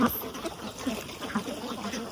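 A flock of ducks dips into water to drink, making a few soft, scattered quacks over light splashing and a faint outdoor background.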